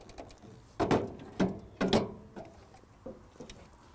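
An Allett C34E electric reel mower's cartridge unit slides out of engagement with a series of sharp metallic clicks and clunks, several distinct knocks in uneven rhythm, close and fairly loud with no talk.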